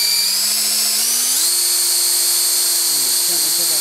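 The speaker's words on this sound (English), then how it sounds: "I put the point on the center of that mark that I made, and then make sure the drill is plumb and go down slowly." Power drill boring slowly down into a wooden board, a loud continuous high whine whose pitch steps upward as the bit bites, close up and steady throughout.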